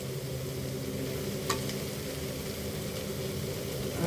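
Whole cloves and cinnamon sticks sizzling in hot oil for Bangladeshi tehari, a soft, steady crackling fry with one brief clink of spice dropping in, no talk.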